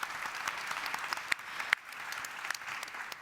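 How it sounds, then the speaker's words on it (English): Audience applause for the panelists closing a session at the 48th IFAD Governing Council, steady dense clapping throughout, moderately distant and even, with no talk over it. "join me in a round of applause for our panelists"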